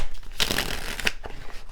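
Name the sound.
shuffling tarot cards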